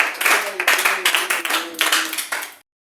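A church congregation claps in rhythm during worship, with loud, steady beats and voices mixed in, before stopping abruptly.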